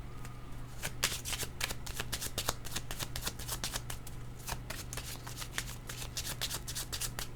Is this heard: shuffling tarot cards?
yes